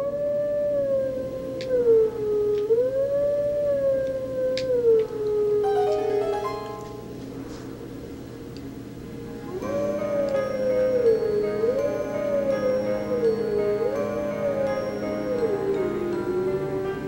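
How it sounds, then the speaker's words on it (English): Wolf howling a melodic song in the video game Zelda: Twilight Princess, with long wavering tonal howls in two phrases separated by a brief pause, loud and clear over soft game ambience, no talking. "so I will just howl the night away."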